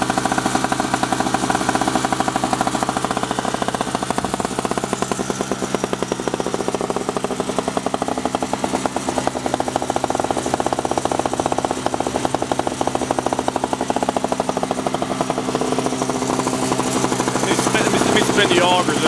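A Sears two-stroke snowblower engine runs steadily nearby, a loud rapid buzzing putter with a constant droning tone that holds throughout.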